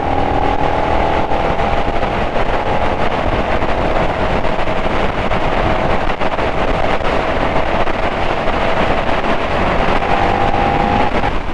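A 2022 KTM Super Duke motorcycle cruising along the M6 motorway, its steady engine drone mixed with heavy, constant wind rush over the microphone, loud and unbroken with no talking.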